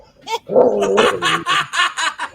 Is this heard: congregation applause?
no